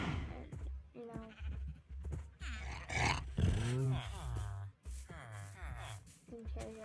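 Sheep bleating at a large sheep and cow farm in the Minecraft video game, several wavering bleats overlapping amid game sounds, with a person talking over them throughout.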